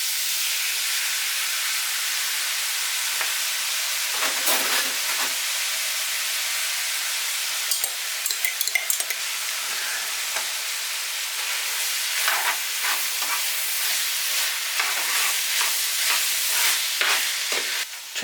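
Tomato sauce for sloppy joes sizzles and hisses in a hot pan, a steady bright sizzle broken by stirring scrapes and spitting bursts, close and loud with no talk.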